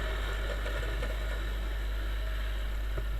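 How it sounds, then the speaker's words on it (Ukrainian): A Viper 200 Chinese motorcycle engine runs at a steady droning pitch while accelerating, continuous and fairly close, with constant mechanical vibration and no voices. "будемо розганяти китайський мотоцикл у Viper 200"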